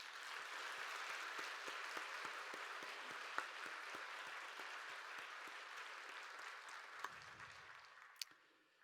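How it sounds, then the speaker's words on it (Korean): A congregation claps together at a New Year's Eve worship service, dense sustained applause from a large indoor crowd with a few sharper individual claps standing out, heard from a distance. "2026년 새해를 우리에게 허락하실 하나님께 감사와 영광의 박수를 드립시다."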